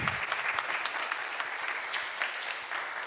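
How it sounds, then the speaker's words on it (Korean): Church congregation applauding in thanks for the pastor after the sermon: steady, even clapping from a room full of people, moderately loud with no talking. "오늘 말씀 전해주신 일단 허진호 목사님께 감사의 박수 부탁드리겠습니다"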